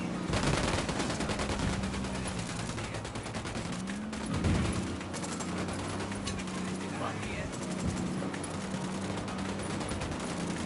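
Sustained automatic gunfire in the video game Ghost Recon Wildlands, dense rapid volleys running throughout at a steady loud level, with voices talking under the shooting.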